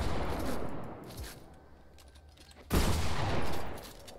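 SMG gunfire in a video game: a short, fairly quiet rattle of shots, a lull, then a louder rapid burst near the end.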